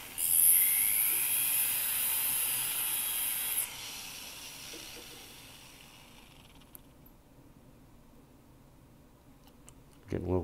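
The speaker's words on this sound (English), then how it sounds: "I'm just going to sand this even." A high-pitched whirring grind from a rotary handpiece with a sanding disc on a metal ring runs steadily for a few seconds, then cuts off, leaving quiet with a few faint clicks.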